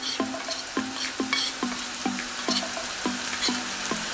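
Spices fry in a hot pan for pheasant saag aloo, a bright continuous sizzle punctuated by regular scraping strokes of a stirring utensil roughly every half second, close and loud, with no voices.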